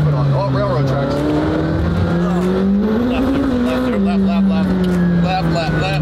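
A car engine drones loudly while new tires whine and squeal spinning against the road, the pitch rising and falling, with people talking over it.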